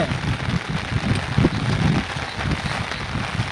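Heavy rain falls at a night campsite, a steady close patter and hiss on surfaces that continues without a break and has no voices over it.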